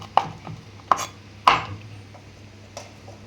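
Coriander, onion and green chillies being finely chopped for onion dosa produce four sharp knife strikes on a board, spaced unevenly, close and clear.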